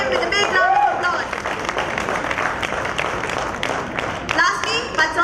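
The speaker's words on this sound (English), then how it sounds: "Let's welcome him with a big round of applause." An audience at a BNI business networking event in Hyderabad applauds to welcome an area director, steady clapping with crowd murmur and some voices layered over it.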